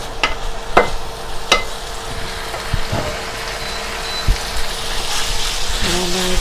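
Bacon and shiitake mushrooms stir-fried in a little oil with a large spatula, heard as a steady sizzle with sharp scrapes and knocks against the pan, close and fairly loud.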